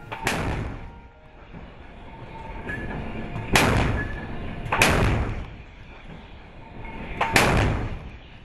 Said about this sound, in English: 155mm Advanced Gun Systems, or AGS, that can fire long-range land attack projectiles